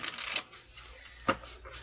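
A deck of cards is shuffled up close, a quick papery riffle followed by a short sharp snap of cards settling.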